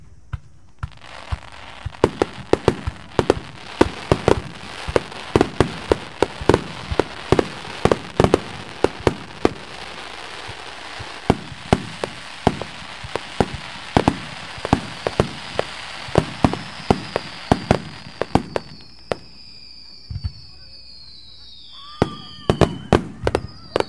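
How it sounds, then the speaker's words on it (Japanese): Fireworks burst one after another at the 14th Izumo Shinwa Matsuri fireworks festival in Japan, a dense run of sharp bangs and crackles that stops near the end, leaving a few isolated reports and rising whistles. "音を出しながら舞い散る花火"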